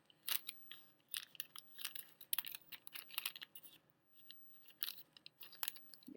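Scissors snip through paper in quick, irregular crisp cuts, close up, with short pauses between bursts of snipping.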